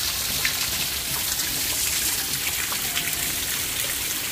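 Heavy rain pours down over a small backyard, a dense, continuous hiss of drops hitting surfaces, loud and unbroken throughout with no voices.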